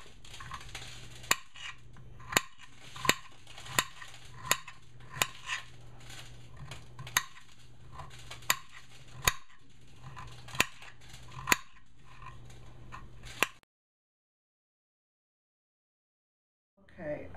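Knife chopping vegetables for chicken soup on a cutting board, a series of sharp, irregularly spaced chops over a low kitchen hum for about thirteen seconds, then silence before a faint sound at the end.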